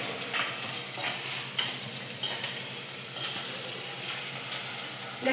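Onions sizzle steadily in a hot pan for tomato biryani, a continuous broadband frying hiss with scattered soft clicks and scrapes of stirring, moderately loud and close, with no voices.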